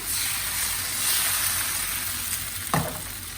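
Neer dosa batter pours onto a hot pan and sizzles in a continuous, bright, close hiss, with one brief scrape near the end and no voice.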